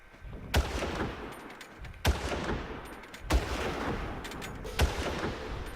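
Four heavy gunshots ring out in the video game Far Cry, spaced more than a second apart. Each sharp blast is followed by a long, rolling echo.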